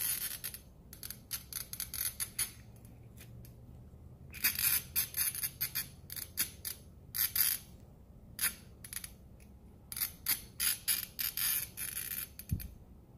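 A glass bottle turns in a diamond-bit bottle cutter, giving a series of faint, irregular scratchy clicks and ticks in short bursts, close by with quiet pauses between them.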